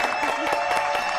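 Studio audience applause on a French TV talk show, a brief, steady patter of clapping with faint crowd murmur throughout.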